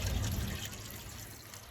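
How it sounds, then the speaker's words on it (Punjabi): Water poured onto eggplant and chili plants in rooftop pots, a soft steady splashing and trickle that is loudest at the start and then thins out, with no voices. "ਹੋਰ ਪਾਣੀ ਆਪਾਂ ਲਾ ਦਿੱਤਾ ਜੀ ਬੈਂਗਣਾ ਨੂੰ ਵੀ ਤੇ ਮਿਰਚਾਂ ਨੂੰ ਵੀ ਲਾ ਦਿੱਤਾ"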